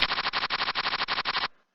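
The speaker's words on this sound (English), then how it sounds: "you're going to see an explosion here on the table" An explosion animation effect on an online poker table plays as a rapid burst of about a dozen evenly spaced, punchy blasts, loud and close, then cuts off abruptly.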